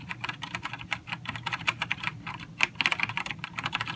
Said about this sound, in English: let's hear what this sounds like real quick